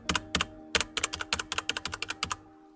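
A new computer keyboard clatters with rapid, crisp keystrokes in uneven bursts, close and clear, ending in a brief pause, with no voices.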